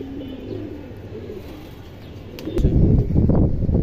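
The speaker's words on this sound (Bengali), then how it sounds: "এই দেখেন মাশাআল্লাহ ঝাঁক গলা কবুতর" Indian highflyer pigeons coo in low, soft, repeated calls close by, followed by a louder burst of rustling and fluttering near the end.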